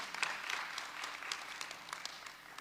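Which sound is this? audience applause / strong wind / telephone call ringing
audience applause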